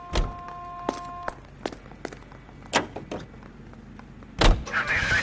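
A car's interior sounds in the video game L.A. Noire: clicks and a door thunk, a whirring electric window, then a louder slam-like burst near the end, no talking.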